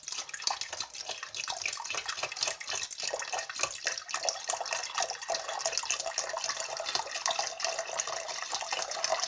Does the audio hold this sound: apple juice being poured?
yes